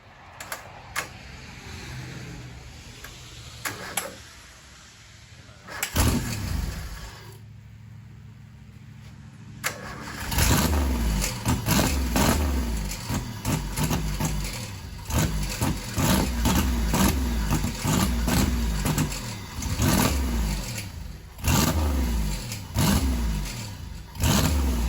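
A supercharged GM 3800 engine in a sand rail cranks over, catches and then revs repeatedly in rising and falling bursts, loud and close, with no voices.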